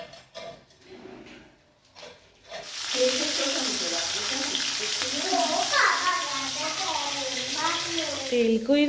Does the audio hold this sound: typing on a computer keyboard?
no